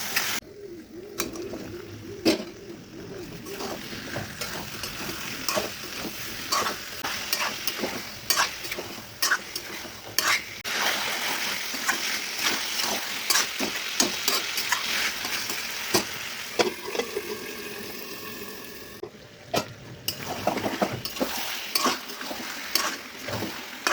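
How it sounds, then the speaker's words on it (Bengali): Ground spices, salt and turmeric are stir-fried with potatoes and onions in a pan for a mutton curry. Continuous sizzling is broken by frequent scraping strokes and clacks of a spatula, moderately loud and irregular throughout. "সামান্য পরিমাণ নুন, হলুদ গুঁড়ো, মশলাগুলো ভালো করে কষিয়ে নেব।"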